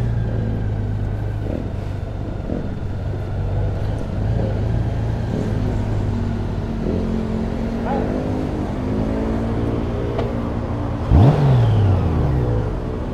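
A 2020 Honda Goldwing motorcycle with an eight-speed gearbox cruises on the road, its engine a steady droning rumble with wind noise that rises briefly as it revs, while people talk over it.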